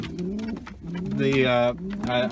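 Soft, throaty cooing from pet doves, repeated in short rolling phrases with a brief higher call near the end, close by.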